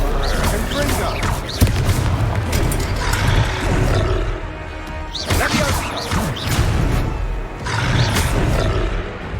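Fiery Confringo spell explosions in the fantasy action game Hogwarts Legacy, loud roaring blasts and crashing impacts repeating in bursts amid battle noise, with a voice casting spells and speaking over the combat.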